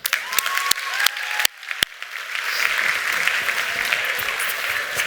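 Audience applause welcoming quadruped robots at a robotics lab presentation: a few sharp, separate claps open, then swell into sustained, dense clapping from a large crowd that holds steady to the end.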